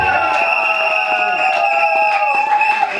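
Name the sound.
wedding guests applauding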